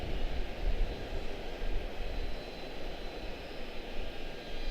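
A jet airliner arriving at London Heathrow gives a steady, fairly faint broadband roar throughout, with no distinct peak and no speech.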